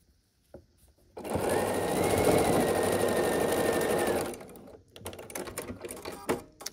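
A sewing machine runs in one steady burst of about three seconds, joining rows of a layer cake quilt top, close and fairly loud, followed by softer handling and fabric rustles.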